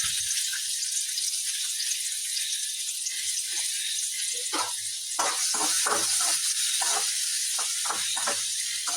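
Steady hiss of chopped onions sizzling in hot oil, with occasional crackles and light stirring clatter growing busier toward the end.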